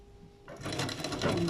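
A sewing machine stitches through folded fabric, starting after a short quiet lead-in and then running as a steady, fast, close mechanical whir to the end.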